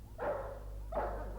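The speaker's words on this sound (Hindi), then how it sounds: "वो क्या हो गया इन कुत्ते के पिल्लों को? भौंकते रहते।" Puppies barking, two separate yaps about a second apart, fairly loud and close over a steady low background hum, with no talking.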